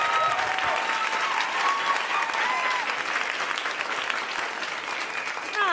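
Steady, enthusiastic audience applause fills a stand-up comedy show, dense clapping with a few whoops and cheers mixed in, loud and sustained throughout.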